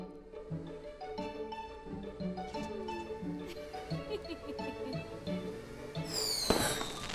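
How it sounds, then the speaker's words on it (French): Cartoon fireworks pop and crackle in a children's animated show, with bursts mixed among a playful musical background, ending with a brighter whooshing explosion near the end. "Les feux d'artifice font des bruits forts."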